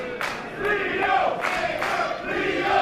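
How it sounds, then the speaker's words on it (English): A wrestling crowd in Brooklyn, New York roars and cheers steadily, a dense wash of voices swelling in several loud waves with no clear speech on top. "the crowd here in Brooklyn, New York has come alive"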